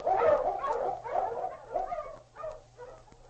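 Eskimo lead dog King, a swift and strong sled dog, barks in a quick run of sharp, close barks with short gaps, loud at first and easing off toward the end.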